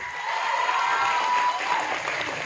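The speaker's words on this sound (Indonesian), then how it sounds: "Boleh tepuk tangan dong." Full, dense applause from an audience after a sung performance at an Islamic religious gathering, loud and unbroken for the whole stretch.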